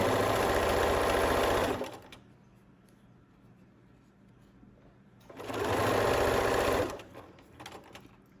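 A sewing machine stitches a French seam on a hooded towel in two steady, loud runs of about two seconds each, separated by a quiet pause with a low background hum.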